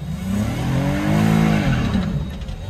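A car turns and revs hard nearby, its engine pitch climbing and then falling in one smooth sweep, alone.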